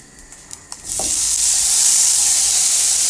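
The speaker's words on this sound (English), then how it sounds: "I'm going to brown this beef off in batches" A few light taps, then beef hits a hot frying pan and a loud, steady sizzle takes over and holds, close up, as it browns in batches.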